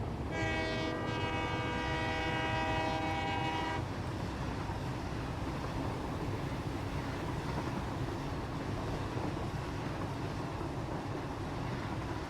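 Trains racing in Satisfactory: a sustained horn blast for a few seconds over a loud continuous rumble of rolling rail cars that carries on steadily after the horn stops.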